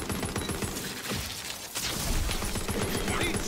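Rapid bursts of gunfire from the shooter game Tiny Tina's Wonderlands, loud, close and nearly continuous, with overlapping shots and impacts running through the whole stretch.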